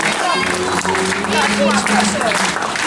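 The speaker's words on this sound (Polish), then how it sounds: "Poprosimy o duże brawa, duże brawa." Steady crowd applause at a fashion show in an Auchan store fills the whole stretch, with music playing underneath and a voice talking over it.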